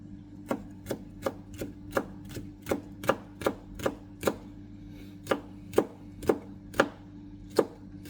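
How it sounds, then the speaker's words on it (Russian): A knife finely chops half a hot green pepper on a board, sharp close knocks in a steady rhythm of roughly two per second, with a brief pause midway. "острый зеленый перец много брать не будем, я возьму половину его. И нарежем мелко его"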